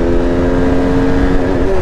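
A motorcycle engine revs and pulls hard as the rider accelerates on the road, a loud, continuous close-up drone whose pitch rises toward the end, with no talking.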